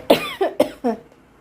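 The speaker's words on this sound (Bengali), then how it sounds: "কথা বলতে লাগলে আর কি কাশি উঠে আসছে" A short burst of four coughs in quick succession, close and fairly loud, then quiet.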